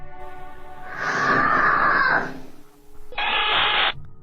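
A woman's long, loud scream rings out in a toddler's room, followed after a short pause by a second, higher and shorter wail.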